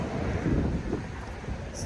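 Steady outdoor wind buffeting the microphone by a lake under cloudy, cool skies, a continuous low rumble that swells and eases slightly, with no clear voices.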